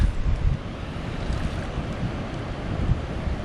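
Ocean surf washes steadily onto a beach on Saipan, a continuous rushing wash with wind buffeting the microphone and no voices.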